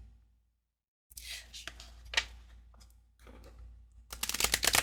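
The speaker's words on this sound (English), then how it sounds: "So if you find that you're riffle shuffling and it's falling out in chunks" Wisdom of the Wild Things oracle cards riffle in short fluttering bursts separated by pauses, finishing with a loud, rapid flurry of flicking cards, close and crisp.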